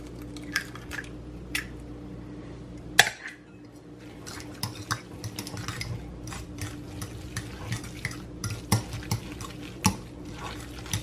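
An egg being stirred into a salmon croquette mixture in a bowl, soft wet squishing and mixing with scattered utensil taps and clinks against the dish, close and fairly quiet, no talking.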